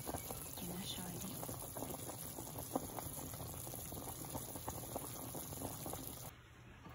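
Liquid boils steadily in a pot for a Vietnamese chicken and liver pâté dish, a faint continuous bubbling patter that drops off near the end.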